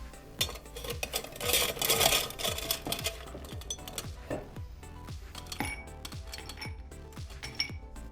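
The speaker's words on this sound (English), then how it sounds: "Now we need an old-fashioned glass, fill it with ice." Ice cubes go into an old-fashioned glass for a whiskey sunrise cocktail: a quick run of separate clinks and rattles, close and bright, each cube knocking against the glass.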